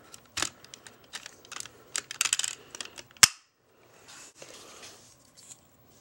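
Plastic parts of a 2010 Mighty Morphin Power Rangers Dino Megazord toy snap and click into place, a string of light sharp clicks with one louder snap, then quieter rustling.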